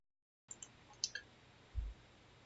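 A computer mouse gives several small, quiet clicks, spaced irregularly against near silence, followed by a soft low thump.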